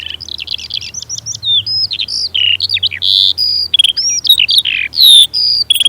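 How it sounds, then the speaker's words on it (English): A skylark sings a rapid, sustained stream of high chirps, trills and warbles, close and loud, over a low background hum in open heathland burrows. "the burrows will be covered by the sound of the glorious skylarks"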